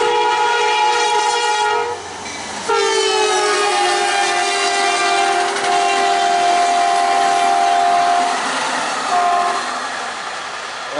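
An Amtrak passenger train rumbles past close by, its horn blaring in long sustained blasts over the steady roar of the cars.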